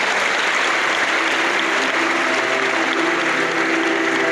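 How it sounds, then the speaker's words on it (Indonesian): Dense, continuous applause fills the room at a motivational seminar for students, a loud and steady wash of many hands clapping together with no pauses or speech. "Tepuk tangan untuk kita semua."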